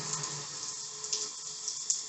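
Cold water runs from a shower after its diverter valve is replaced, a steady soft hiss of flowing water with faint splashy flickers, fairly quiet and continuous.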